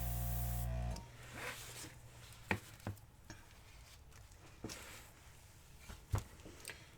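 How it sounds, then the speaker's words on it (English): An airbrush sprays acrylic paint in short hissing bursts during a coral flip-and-drag acrylic pour, with soft taps and handling noises between the sprays after a brief loud start. "That way I filled up that little spot with the airbrush"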